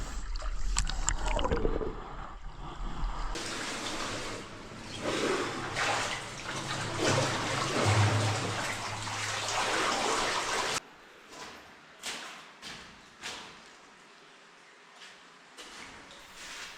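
Water flowing through a cave streamway beyond a sump in Swildon's Hole, Mendip Hills, rushing loudly and steadily at first, then dropping to a quieter, gentler trickle with scattered splashes and knocks.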